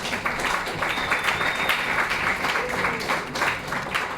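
A room full of audience members at an inline skating event applauds, dense continuous clapping that holds steady and moderately loud for several seconds.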